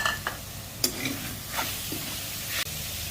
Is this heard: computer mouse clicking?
no